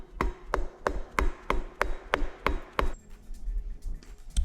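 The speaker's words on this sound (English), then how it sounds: "Just going to go to a mallet." A mallet taps on an RB26 timing pulley in about nine sharp, evenly spaced knocks, close and clear, before stopping into a quiet workshop hum.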